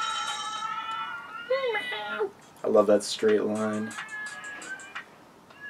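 Cartoon cats in the game Rocket Cats meow in short high bursts among game chimes, moderately loud, with a person talking over parts of it.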